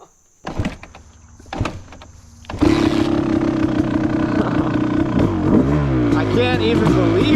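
Kawasaki KX250 two-stroke dirt bike starting with a few short bursts, then roaring loudly and steadily as it is ridden up a street, engine pitch rising and falling through gear changes up close.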